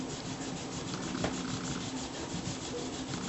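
A green polishing compound block rubbed against a running sander belt gives a steady, dense abrasive rasp, close and unbroken for a few seconds.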